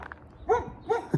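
Two short barks from a dog at moderate distance, each a quick harmonic yelp with a faint soft start, separated by a brief pause, with a third onset cut off at the end.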